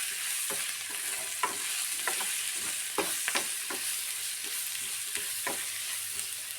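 Chilli powder and garam masala frying in a pan while being stirred, a steady sizzle broken by regular scraping strokes of the spoon, close and clear with no talk.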